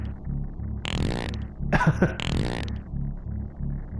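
In the video game Oddworld: New 'n' Tasty, a character lets out a string of cartoonish farts: a couple of short blasts, then a longer squeaky one with a bubbly middle. Each is loud over quiet game ambience.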